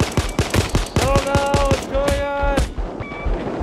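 Rapid gunfire in the heist video game PAYDAY 2, a loud close string of sharp shots in quick rhythm, mixed with ringing tonal game effects and a few scattered later shots.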